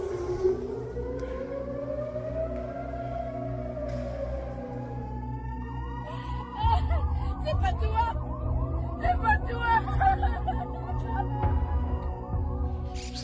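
A wailing air raid siren rises and falls in long sweeping tones in Tel Aviv, joined midway by a second overlapping siren, with faint voices and crowd noise of people running to shelter underneath.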